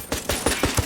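Gunfire in Ghost Recon Wildlands: a quick string of five loud, close shots in a steady rhythm, with no talk over them.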